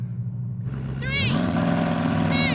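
Ferrari SF90 XX and Koenigsegg Regera launching side by side in a drag race, engines jumping from a steady idle into a loud surging rev with rising whines, with people talking over them.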